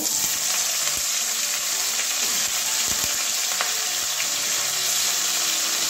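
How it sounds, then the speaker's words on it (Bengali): Turmeric, cauliflower and potato fry in hot oil, producing a loud, constant hiss of sizzling with occasional stirring clicks and scrapes, close up and with no talking. "এবার তেলের মধ্যে একটুখানি হলুদ দিয়ে দিচ্ছি, নাহলে ফুলকপি দিলে ফুলকপি আলু একসঙ্গেই ভাজবো"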